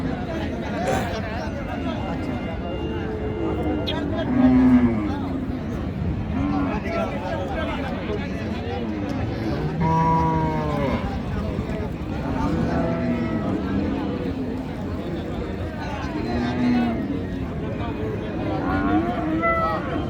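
Cattle, including crossbred cows and dry heifers, mooing at a busy livestock market in Raniganj, several low drawn-out calls near and farther off amid a constant babble of people talking.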